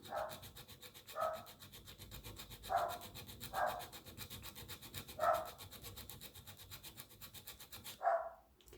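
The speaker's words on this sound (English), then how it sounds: "So we can stop filing and that's nice and straight" An acrylic nail is worked with a nail file in short, rhythmic rasping strokes, about six faint bursts spaced a second or two apart over a quiet background hiss.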